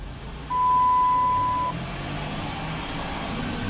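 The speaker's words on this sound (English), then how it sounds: "Okay, the transmission is shifting again." A Chrysler Town and Country minivan with a 62TE transmission fault runs with a steady, muffled engine drone that swells briefly, while a thin electronic beep tone sounds for about a second.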